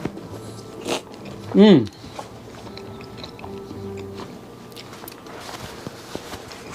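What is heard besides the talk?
biting into a carnitas taco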